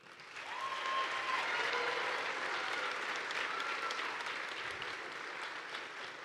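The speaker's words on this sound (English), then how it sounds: "They deserve another round of applause." An arena crowd at a 2025 FIRST robotics state championship in Michigan claps steadily for the sponsors, a broad continuous applause heard from a distance.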